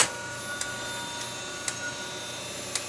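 A vintage printer runs a test page, its moving rollers giving a low mechanical hum broken by several sharp, evenly spaced ticks or clicks, close by and fairly quiet.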